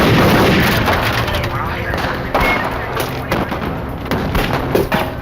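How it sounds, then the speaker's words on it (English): Mini-14 assault rifle fire in an FBI shootout, loud booming and cracking shots in uneven bursts over dense, rumbling noise, with talking mixed in. "opened fire with a Mini-14 assault rifle"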